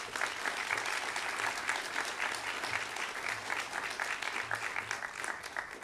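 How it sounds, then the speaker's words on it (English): Sustained audience applause at a college honors convocation, a dense, steady wash of many hands clapping at even loudness for the full stretch, with no talk over it. "They also deserve a round of applause,"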